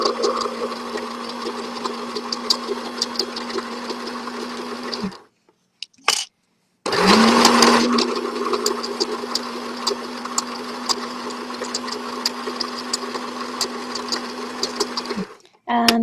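A sewing machine stitches a tie-dye shopping bag in two long steady runs with a short pause between, its motor humming close and loud at an even pitch.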